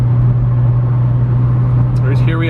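A 2015 McLaren 650S Spyder, a repairable salvage car, cruises at highway speed. A steady low engine and road drone fills the cabin throughout, and a voice briefly talks near the end.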